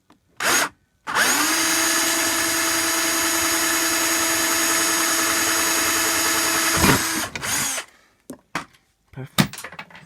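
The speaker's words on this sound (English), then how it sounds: "Then take a drill bit that just fits in here," A loud power drill whines steadily for about six seconds, then stops, followed by a few short clattering knocks, as a hole is drilled into a VW T3/Vanagon wiper motor.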